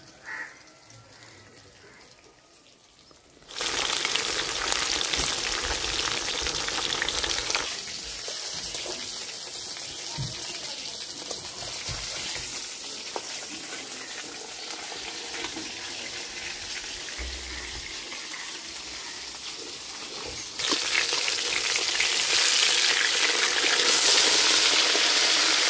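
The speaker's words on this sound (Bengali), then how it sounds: "মাছ লাল লাল করে ভাজা নিছি" Fish frying in a pan, a steady broadband sizzle that jumps louder partway through and swells again near the end, continuous and close with no talking.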